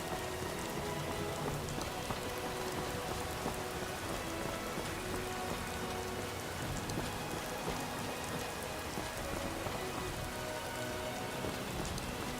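Steady rain falling through a forest in Skyrim, a dense, even hiss of drops on leaves and ground that continues unbroken throughout with no voices.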